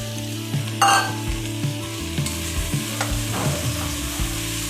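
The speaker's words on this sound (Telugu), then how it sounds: "సోయా వేసుకొని ఫ్రై చేస్తాము." Soya chunks frying with tomato and garam masala in a pan, a constant loud sizzle broken by repeated scraping stirs of a spoon, close up and with no talking.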